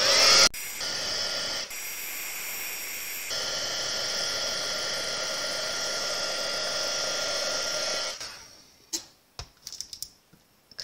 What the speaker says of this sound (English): I'm going to heat emboss it.